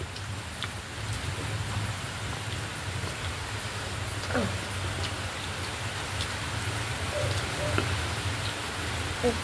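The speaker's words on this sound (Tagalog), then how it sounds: "Maulan na po." Steady rain falls throughout, a dense even hiss of drops on surfaces with a low constant rumble beneath, with no voices.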